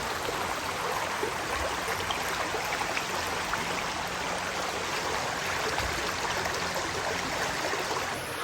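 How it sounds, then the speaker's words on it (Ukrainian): The Pynia river, a tributary of the Latorytsia in Ukraine, flows steadily, a constant soft rushing and trickling with no voices. "Це річка Пиня. Вона є притокою річки Латориці."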